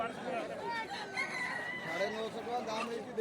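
A rooster held at an outdoor village market crows in rising and falling calls, moderately close, over a busy murmur of crowd chatter.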